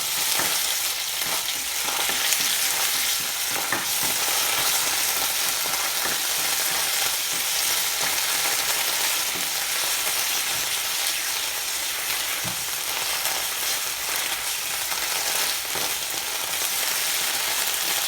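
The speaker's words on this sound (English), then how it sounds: "Add the tomato puree to it." Tomato puree sizzling and frying in a pan for a chicken kofta korma, a steady bright hiss that stays loud and even throughout, with a few faint stirring scrapes and no voices.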